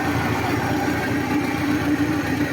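Carburetted engine running steadily at idle on a workbench, a continuous close, even drone with a faint vibrating hum, no voices.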